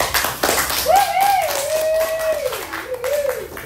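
A fourth-grade classroom bursts into a steady round of clapping that carries through the whole moment, with children's voices calling out loudly over the applause.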